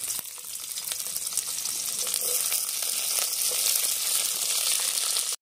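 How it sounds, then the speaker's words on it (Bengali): Onion, peas and beetroot frying together in a pan, giving a continuous close sizzle that holds steady with no talking. "নিয়ে আমি একসাথে সব ভেজে নেব। সব সবজিগুলো একসাথে দিয়ে দেবো।"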